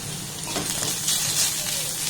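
Chopped onion, chili and poppy seeds frying in hot oil in a pan, giving a steady close sizzle with bright crackling and a few stirring scrapes, alone without talk.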